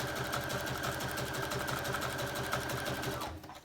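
A domestic sewing machine runs steadily while stitching lace onto a junk journal cover, a fast even mechanical whir and needle patter lasting almost the whole time before stopping abruptly at the end.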